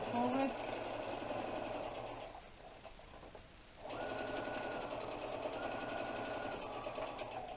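A domestic sewing machine stitches through a vinyl tote bag with red cotton thread. Its faint, steady motor runs for a couple of seconds, pauses briefly, then restarts, with quiet talk nearby.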